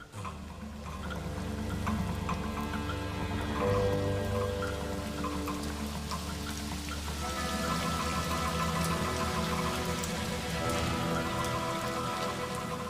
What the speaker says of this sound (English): A blanket of cloud hangs overhead, and the rain falls for many days and nights.